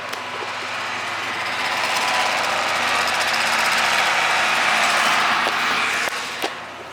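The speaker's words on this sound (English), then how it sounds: "here comes Sam on the tractor" A steady, loud tractor engine drone with a knocking, chugging texture runs throughout, close by on a farm during cow feeding, with a brief clunk near the end.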